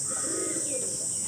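Domestic tumbler pigeons in a loft, a brief soft cooing under a steady high-pitched background hiss, faint and continuous.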